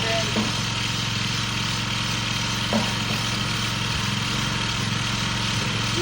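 John Deere 220 E-Cut walk-behind reel mower running during backlapping, with its engine idling in a continuous, even drone and a few faint clicks and knocks mixed in.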